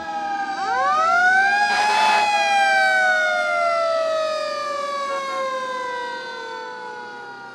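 An emergency vehicle siren winds up near a roundabout and holds a loud, steady wailing tone, then slowly falls in pitch and fades slightly, with no voices over it.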